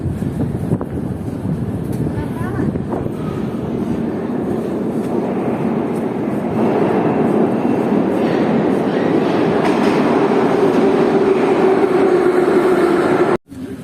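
A Saint Petersburg metro train rumbles steadily through a station, a continuous low roar with some clatter, growing slightly louder midway before cutting off abruptly near the end.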